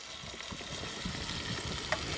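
Garlic and deer meat sizzling in a skillet, a soft, steady frying crackle with small pops and occasional stirring scrapes, heard alone at moderate distance.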